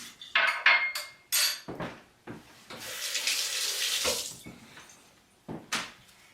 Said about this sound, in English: I'm going to pour the excess water off